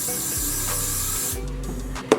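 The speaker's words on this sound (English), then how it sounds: "I'm also going to spray some other free spray on here as well." Hair spray from an aerosol can sprayed onto a small eyelash tray: a continuous close hiss that cuts off abruptly, followed by a quieter stretch ending in a sharp click.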